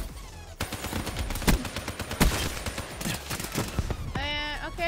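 Rapid bursts from a Drakon rifle in a Call of Duty: Black Ops III multiplayer match, sharp repeated shots in uneven clusters, fairly close, with a brief electronic warble near the end.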